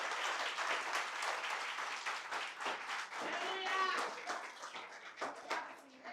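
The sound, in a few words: church congregation applause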